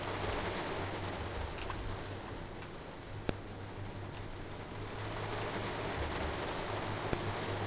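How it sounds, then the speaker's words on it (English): Steady rain drums on a station roof on the Isle of Wight in Train Sim World 2, beside a Class 484 train. A constant wash of patter is broken by a couple of sharp clicks. "I love the sound of the rain though. It sounds really good. Even on the station roof, it sounds good."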